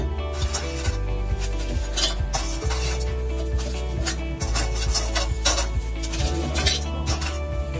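Chocolate cream biscuits, a full packet broken into pieces, ground to a fine powder in a kitchen grinder: a loud, steady whirring grind with rattling and clinking pieces that runs without pause throughout.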